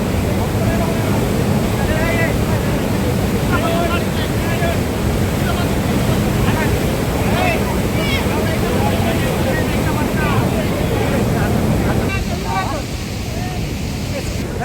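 A steady, loud roar of the swollen river at Bhandardara during the monsoon fills the whole stretch without pause, with people talking over it.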